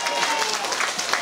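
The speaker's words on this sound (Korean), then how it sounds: "여러분들 오늘 좀 박수 많이 쳐주시오" Festival crowd at the 2019 Sinan island pomfret festival applauding, a dense, steady wash of clapping held at even loudness throughout, with some voices mixed in.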